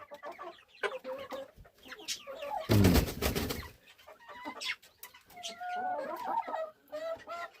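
Chickens cluck and murmur close by, with one loud burst of flapping or squawking midway and a short grunt from a person.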